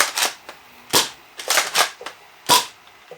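A modded Nerf Cycloneshock blaster is primed and fired with mega darts, giving several sharp, loud snapping bursts spaced irregularly over about three seconds, each with a short mechanical click between shots, close to the listener.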